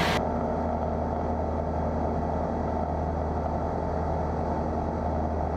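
A Pipistrel Alpha Trainer light aircraft engine drones at reduced power in flight, a steady, close, unbroken hum and rumble with no talk.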